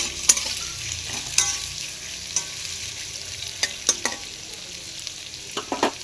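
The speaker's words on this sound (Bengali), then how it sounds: "দেখো, পেঁয়াজটা ভেজে নেব।" Onions frying in a pan give a steady close sizzle, with sharp scraping clicks of a spatula stirring them every second or so.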